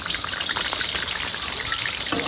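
Chilies and seasonings stir-frying in rapeseed oil in a large iron wok alongside freshly caught carp and silver carp, a steady dense crackling sizzle throughout, close and fairly loud with no talk.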